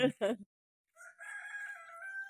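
A rooster crows, its drawn-out call rising and holding steady, heard after a brief burst of a voice and a moment of silence.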